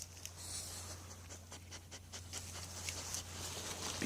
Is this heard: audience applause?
no